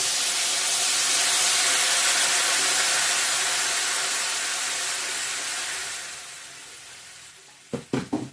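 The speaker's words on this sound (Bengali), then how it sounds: "মশলার সঙ্গেই জল অ্যাড করবো এখন জল দিয়ে দিলাম" Water poured onto a dried-down, well-fried spiced yam curry in a hot pan sets off a loud, sustained hiss that gradually fades, followed by a few brief clatters at the end.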